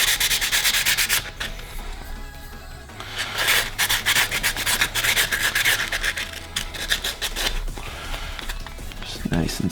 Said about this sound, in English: This is really high grit sandpaper, so I'm just kind of cleaning it up for appearance purposes